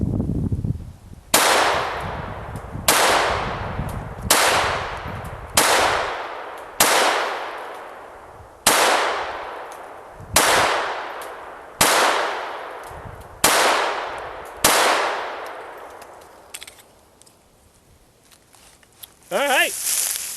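Eleven loud, sharp gunshots from an S&W M&P 22 Compact pistol firing Federal Premium ammunition ring out at a steady pace of about one every one to two seconds, each with a decaying echo, followed by a brief voice.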